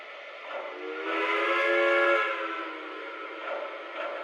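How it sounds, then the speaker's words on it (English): A model steam locomotive whistle sounds one long, steady, harmonic-rich blast that swells and fades, followed by a quieter trailing tone, fairly near and clear. "that's a great sounding horn, or whistle, I should say whistle"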